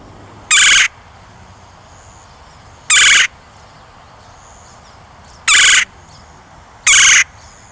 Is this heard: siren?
no